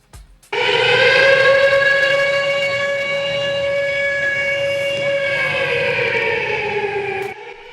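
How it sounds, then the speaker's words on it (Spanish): A civil defense siren wails at a memorial homage on Pasteur Street in Buenos Aires' Once neighborhood, one loud sustained tone held for about seven seconds before cutting off. "Como cada 18 de julio, la sirena estremeció la calle Pasteur al 600"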